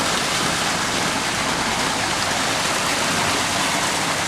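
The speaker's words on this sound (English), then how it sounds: "very efficient way to make a lovely water feature in your garden" Water from a small garden waterfall built of ledge stone pours steadily into a pond, a dense, continuous splashing rush that stays loud and even throughout with no voices.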